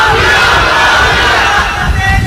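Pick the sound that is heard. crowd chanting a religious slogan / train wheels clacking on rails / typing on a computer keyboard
crowd chanting a religious slogan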